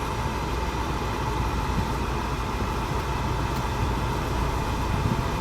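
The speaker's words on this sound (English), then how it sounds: "I guess the next thing we can test out is the blower motor" Blower motor fan in a 1985 Volvo 240 running steadily at one of its four speeds, a continuous airy whoosh with a low hum, fairly close and even throughout with no talk.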